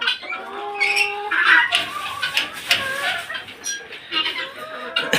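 Chickens cluck and call inside a chicken house, with overlapping bird noises and occasional wing flaps at moderate volume in a busy coop setting.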